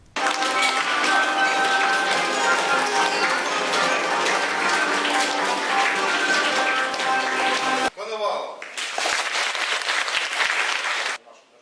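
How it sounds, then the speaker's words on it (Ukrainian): Loud, sustained applause fills a packed school assembly hall, dense clapping from a large crowd that breaks off briefly and then resumes before stopping abruptly. "У навчальному закладі козаків зустрічали гучними оплесками у вщент заповненій актовій залі."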